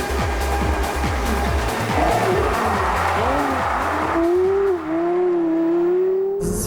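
A Porsche Carrera GT with its V10 engine revs hard through repeated rising gear pulls, loud and close, then settles into a long, high sustained wail as it accelerates, cutting off briefly before a final sharp burst.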